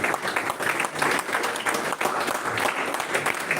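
An audience at the inauguration of a national-level oratory contest claps continuously, dense applause filling the hall from start to finish with no break.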